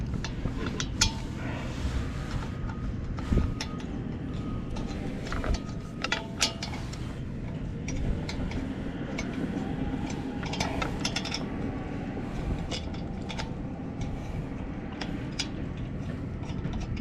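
Lug nuts threaded by hand onto a wheel of an NA Mazda Miata: scattered light metallic clicks and small rattles, close by, over a steady low background hum, with no talking.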